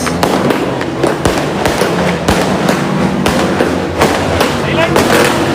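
A very large 'Judas belt' string of firecrackers set off for New Year bursts in rapid, crackling succession, loud and close, with voices faintly audible beneath the popping.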